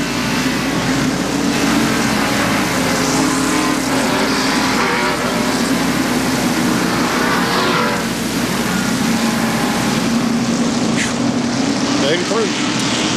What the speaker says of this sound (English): And now from Ernie Irvin's perspective in the Kodak car